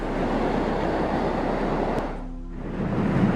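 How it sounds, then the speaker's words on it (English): Storm-driven waves surge through the Currumbin Surf Club car park, a loud continuous washing roar that briefly eases before building again, heard without speech. "The dying remnants of Seth's original fury managing to push more waves through the Currumbin Surf Club car park."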